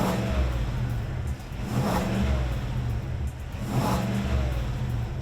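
The 6.2-liter V8 of a 2021 Cadillac Escalade revs in two rising swells over a steady engine drone, sustained and fairly loud with no voices.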